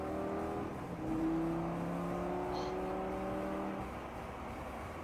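A Lamborghini Gallardo accelerating, its engine droning steadily as the pitch climbs in layered harmonic tones, the sound swelling a little after the first second and holding before easing off toward the end, heard from close by with no voices.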